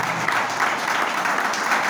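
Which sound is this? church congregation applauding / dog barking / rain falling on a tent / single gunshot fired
church congregation applauding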